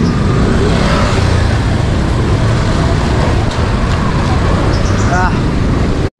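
Dense, loud road traffic on a busy city route heard from a motorcycle, with a steady roar of engines and wind and faint horn-like tones near the end.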